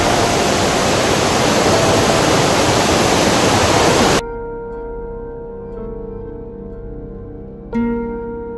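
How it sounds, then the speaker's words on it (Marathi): A waterfall on a Sahyadri trek to the Kondhane caves roars as a loud, steady rush of water for about four seconds, then cuts off abruptly into quiet sustained tones. "कोंढाणा केव्हला जाताना असा एक मध्ये एक धबधबा लागलाय, तुम्ही बघू शकता."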